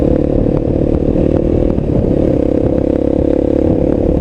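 A Voge 300 Rally motorcycle engine runs steadily and loudly up close at night, a continuous droning idle with a rough mechanical clatter and no pause throughout.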